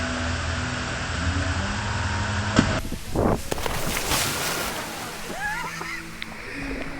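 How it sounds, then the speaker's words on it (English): A person jumps into a shallow, cold waterfall pool at Pinsal Falls, giving one sharp splash and a slosh midway, set against a steady rush of falling water, with voices nearby. "So the water is so shallow, I had to jump like this"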